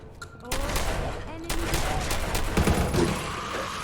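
Sustained gunfire in Fallout 4 against ghouls in an underground area, a loud dense volley of rapid shots continuing after a quieter opening, with faint voice-like sounds in the mix.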